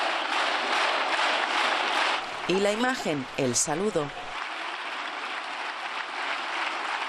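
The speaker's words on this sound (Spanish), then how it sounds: "llega la ovación" Sustained ovation in Spain's Congress of Deputies, a dense wash of clapping filling the chamber throughout, with a narrator speaking over it for a couple of seconds in the middle.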